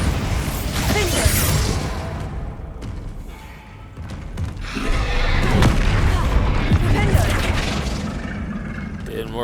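Explosive spell effects in Hogwarts Legacy, with repeated booms, whooshes and thuds in a rapid rolling sequence, loud and near, heard under a player's voice.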